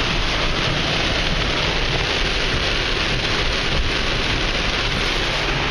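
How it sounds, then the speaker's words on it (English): Heavy rain pours down steadily on a very rainy day, a dense, constant roar of drops close by with no break. "I'm hoping this rain lightens up by the time I head back."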